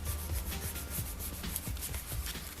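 A fingertip rubs transfer foil down onto tape in quick, repeated strokes, producing a soft, close, continuous scratchy rubbing with no talk.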